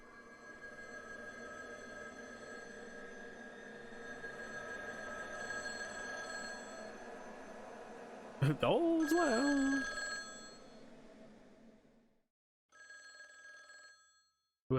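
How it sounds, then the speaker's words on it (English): Telephone ringing in The Lost Crown video game, a steady repeating ring heard at moderate level under low ambient hum, with a voice briefly talking partway through and a few more ring bursts near the end. "Whoever it is, they're very patient because I am quite a distance from the phone."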